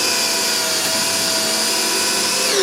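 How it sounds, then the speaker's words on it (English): A power drill drives screws into the wall of a window frame while plantation shutters are installed, giving a loud, steady whine that holds with no pauses and no talk. "I'm going to drive home some of these screws so that we can continue the installation."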